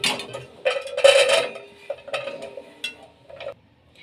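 Chopped water chestnut dropped into a bowl for an oil-free salad, with a few close clattering bursts of pieces and utensil clinks against the dish, then quieter taps trailing off.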